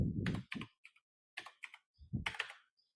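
Short bursts of key presses on a computer keyboard as a line of text is typed, quick clusters of sharp clicks separated by brief pauses, close and fairly quiet with no talking.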